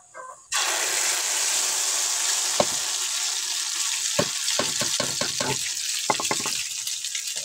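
Garlic sizzles loudly in a hot frying pan, a steady close hiss starting abruptly after a brief quiet moment, with occasional sharp clinks and scrapes of a utensil stirring it.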